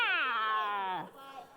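A human voice imitating a leopard, drawing out one long, rising-then-falling yowl like a big cat's snarl, close and fairly loud for over a second before trailing off.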